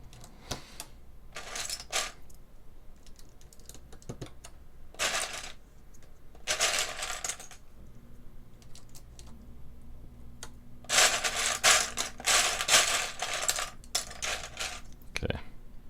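Someone types on a White Fox mechanical keyboard fitted with SA or DSA keycaps, heard as close bursts of rapid clacking keystrokes with short pauses between runs, loud and alone without talking.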